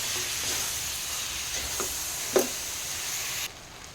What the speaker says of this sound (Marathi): याच्यात आता हे तांदूळ घालते आता याला एकदम छान मिक्स करून घ्यायचं आहे